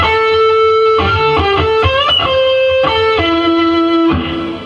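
A distorted electric guitar plays a short lick of sustained, bending notes, loud and alone, ending with a held note that fades.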